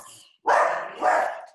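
A pet dog lets out two quick, loud barks in close succession indoors, nearby and clear.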